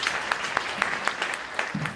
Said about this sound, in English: So I want to give you a round of applause because it's very important to acknowledge volunteers